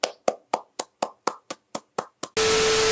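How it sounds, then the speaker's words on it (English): Ten steady, evenly spaced hand claps, loud and close, break off into a sudden sustained burst of broadband hiss that holds to the end, with no talking. "Everyone give a round of applause,"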